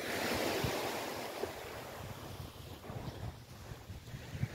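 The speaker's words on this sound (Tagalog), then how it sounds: "Kinukuha mo yung waves." Sea waves wash against the shore at Coloane, Macau, a soft continuous surf rumble mixed with wind buffeting the microphone, faint and without talk.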